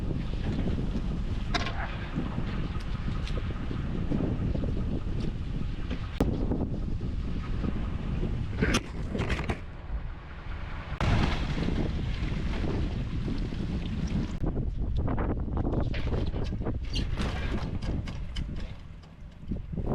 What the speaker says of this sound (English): this wind makes everything so much harder